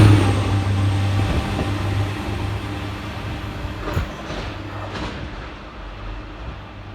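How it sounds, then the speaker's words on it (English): CrossCountry unit 220012, a Manchester Piccadilly to Paignton service, speeds through Barnt Green station with a loud, sustained rushing roar and rumbling wheel noise that slowly eases off, without any talking. "Flying through the station in the opposite direction is 220012, working 1 Victor 47 for cross country from Manchester Piccadilly through to Paignton"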